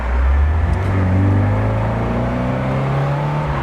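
A 1991 Alfa Romeo Spider fitted with a performance chip accelerates in third gear, its engine drone rising steadily in pitch, loud and heard from inside the car, with no voices over it.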